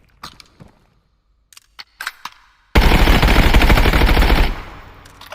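A few faint clicks and brief taps, then a loud sustained burst of automatic 5.56x45 rifle fire in the game Contractors Showdown, lasting close to two seconds before cutting off into quiet.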